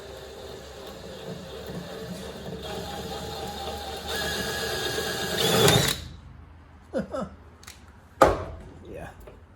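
A drill bores out spot welds in a Toyota Celica engine bay with a steady close whirring grind for about six seconds, then stops and leaves a few sharp knocks and clatters.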